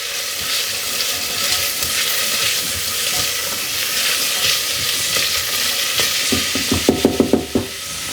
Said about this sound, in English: We're going to put our onions in. I'm going to stir that around.